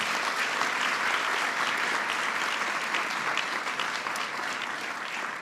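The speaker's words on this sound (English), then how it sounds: "Please give them a big round of applause for their great work." Sustained audience applause at a science, technology and innovation honors ceremony, dense steady clapping from a large crowd filling the room throughout, slightly easing toward the end.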